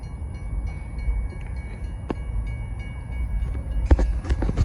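An Amtrak train rolls past at a distance, a low steady rumble of wheels on rail with a few sharp clanks near the end, and no talk over it.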